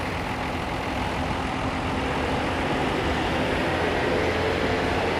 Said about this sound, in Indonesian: MPM ini memakai sasis Hino RK8, karoseri dari Laksana.